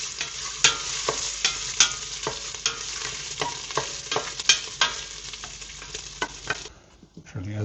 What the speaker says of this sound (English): Don't forget to stir it.